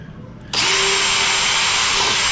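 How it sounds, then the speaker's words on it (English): A power drill starts abruptly and runs at a steady, loud whine, boring screw holes for the retracts in a VQ Model U.S. Navy F6F Hellcat model airplane, with no talking. "So it doesn't shift, I will drill the other two holes."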